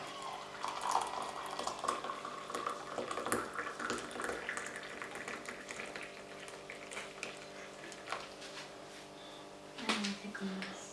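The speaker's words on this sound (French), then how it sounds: "Je vais mettre de l'eau chaude dedans." Hot water is poured into a container, a continuous splashing, gurgling trickle that fluctuates in intensity over several seconds, close by, with people talking over it.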